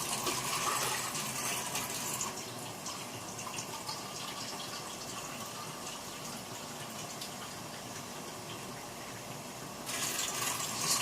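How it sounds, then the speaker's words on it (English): Water pours steadily into a soup maker for several seconds, a continuous splashing gush that eases off, then picks up again near the end. "I will be adding about 750 ml to 1 liter of water"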